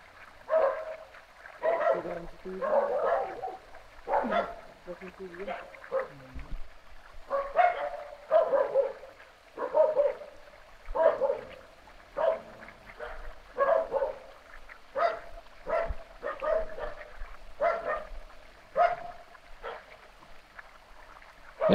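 Dogs bark repeatedly in scattered bursts at middle distance outdoors, over a steady background murmur of running water.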